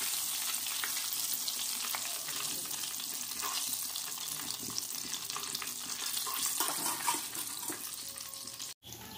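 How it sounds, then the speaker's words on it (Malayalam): Pieces of chicken broast deep frying in hot oil, a continuous dense bubbling sizzle up close with faint stirring scrapes, ending in a brief cutoff near the end, no voices. "ഇനി ഇതുപോലെ എല്ലാതും അങ്ങോട്ട് പൊരിച്ചെടുക്കണം"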